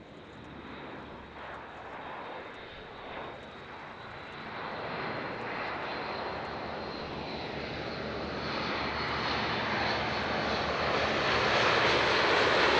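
An Airbus A400M flies past at low speed at an airshow, with flaps and landing gear down. The broad engine roar builds steadily from moderate to loud, with no voices.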